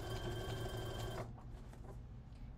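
Sewing machine stitching a quarter-inch seam on yellow bell-bottom jeans, its steady motor hum running loud and close for about a second before it stops and leaves quiet room tone.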